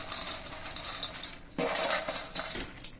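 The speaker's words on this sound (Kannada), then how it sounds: "ಈಗ ಮಕಾನ ಹಾಕೊಳ್ಳೋಣ." Makhana, or fox nuts, spill into a pan holding fried cashews and almonds, giving a quiet clatter of light rattles and clinks that swells briefly partway through against faint kitchen background.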